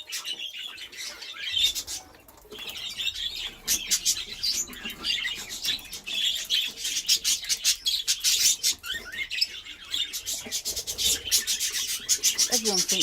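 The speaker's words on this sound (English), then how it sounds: "Somebody's munching the lime." A budgie munches on lime, producing rapid, scratchy rasping and gnawing bursts close by, interspersed with faint chirps and small pauses over a quiet background.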